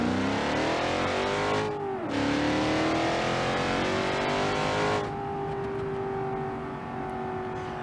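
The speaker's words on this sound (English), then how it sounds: "I love the engine note though" A car engine in BeamNG.drive holds a loud, steady, rising drone, revving smoothly with a brief dip near two seconds and a settle to a lower steady pitch after five seconds, heard alone.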